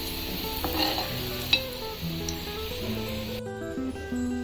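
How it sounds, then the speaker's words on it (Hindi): Green chillies fry in oil over a low flame for a South Indian dish, giving a steady soft sizzle with occasional stirring scrapes and one sharp clink, close and alone. "इसमें हम अलग से ग्रीन मिर्ची फ्राई करेंगे।"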